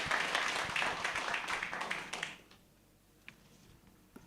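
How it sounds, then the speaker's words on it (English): A conference audience at an East African gathering gives a round of applause, dense clapping for about two seconds that fades quickly into near silence, leaving only a couple of faint taps. "kindly welcome him with a round of applause."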